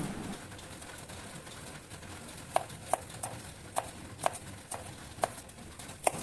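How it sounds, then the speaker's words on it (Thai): A kitchen knife slices a carrot into long strips on a cutting board while prepping vegetables for stir-fried ramen noodles, giving about ten crisp, evenly spaced taps that start partway through over a quiet, faintly hissing background. "นำแครอทมาหั่นเป็นเส้นยาวเพื่อความสวยงามและน่ารับประทาน"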